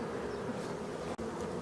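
Honeybees outside the hive hum in a dense, steady buzz as they sound the recall, close and continuous with one brief dropout.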